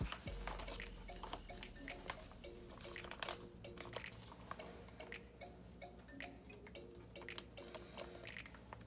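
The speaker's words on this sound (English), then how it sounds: "Now I'm going to put this slow cooker sauce in." Thick slow cooker sauce pouring into a pot, with soft wet drips, squishes and irregular ticking splats that stay faint and close, with no talking over it.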